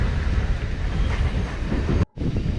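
A Kuppam–Bengaluru MEMU train pulling out of a station gives a loud, steady rail rumble with clattering wheels, broken by a brief dropout before the noise resumes.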